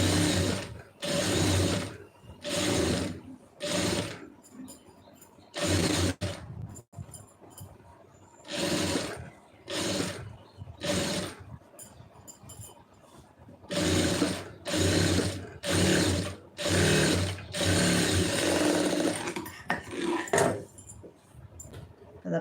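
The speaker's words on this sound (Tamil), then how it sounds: "இப்போ கரெக்டாக இதே மாதிரி லைனிங்கில் வந்து தையல் போட்டுக்கிறோங்க" A sewing machine stitches a blouse lining in repeated short runs of rapid mechanical whirring, each lasting a second or two, separated by brief pauses, close and fairly loud.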